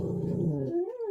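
A dog gives a drawn-out, tonal whine or yowl indoors, rising and bending in pitch over about a second, close and fairly loud with no one talking.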